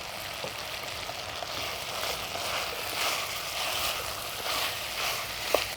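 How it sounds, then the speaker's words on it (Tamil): Vegetables with coconut pieces and salt sauté in a pan, giving a faint, steady sizzle and frying crackle with an occasional small pop and no voices. "இப்போ பார்த்திங்கன்னா இந்த காய் நல்லா வதங்கிட்டு இருக்கு"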